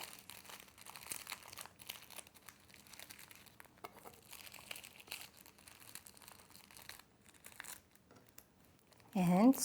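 Plastic film crinkles and rustles as it is wrapped around a triangle gimbap of rice, soft close-up handling noise, quiet and intermittent, with a louder crinkle near the end.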